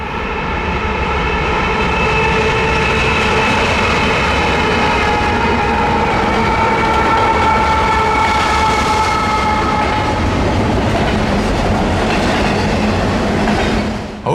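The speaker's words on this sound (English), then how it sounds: "I knew I'd be spending the rest of the day right here" A freight train rolls past on the Norfolk Southern Pittsburgh Line in Pennsylvania in February. It stays steady and loud for the whole stretch, with layered engine drone, ringing tones and rumbling wheels and cars, and no talk.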